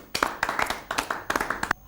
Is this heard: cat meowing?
no